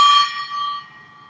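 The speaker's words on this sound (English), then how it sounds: "let's just get a hit from the gong" A small gong is struck once, giving a bright ringing tone with layered overtones that decays slowly over about a second, heard alone and close.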